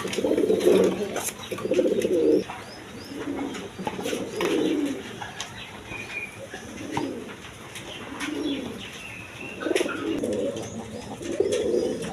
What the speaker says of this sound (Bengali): ডেনিশ কবুতর দেখেন টাইগার কালারের মধ্যে